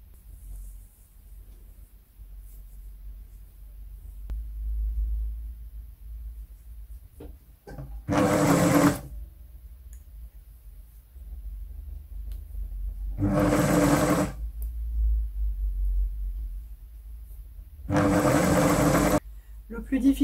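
A sewing machine sews an otter fur coat, running in three separate loud bursts of about a second each, with long quiet gaps and a low background hum between them.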